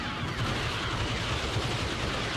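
Dense, continuous gunfire from troops shooting back during a siege on a shield generator in a sci-fi battle game, steady and unbroken with no clear gaps between shots.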